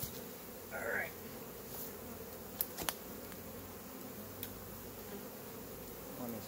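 Honey bees buzz around a hive in a steady, low drone, with a few brief clicks and handling knocks nearby.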